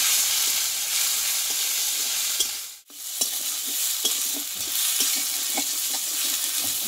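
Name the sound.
ginger, green chili and cumin paste frying in a pan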